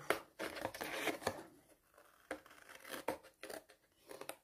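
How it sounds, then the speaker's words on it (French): Scissors snipping through a hexagonal paper card, close and soft, with short bursts of cutting and crisp rustling separated by brief pauses and no talking. "Donc, ce soir, je fais ciseaux."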